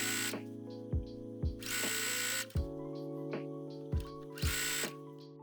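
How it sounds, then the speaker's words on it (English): A sewing machine stitches channels into an elasticized waistband for a cosplay garment, giving a steady mechanical whirr broken by several short pauses, clicks and restarts. It is close and fairly quiet, with no talking. "I'm sewing 4 different channels so that I can feed the elastic through later"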